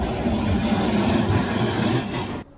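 A train rumbles steadily through a railway crossing in Osaka's Nishinari area on New Year's morning, a loud continuous roll that cuts off abruptly near the end.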